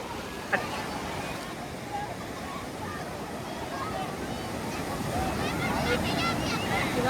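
Waves wash continuously on a windy shore at Tarkarli Beach, a steady roar of surf that swells slightly louder toward the end, with faint crowd murmur.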